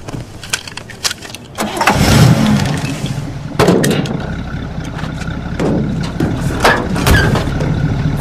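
A long-idle car engine cranking and catching after a jump-start with cables from another car, a few sputtering turns before a rough loud idle settles in, close by with occasional clunks.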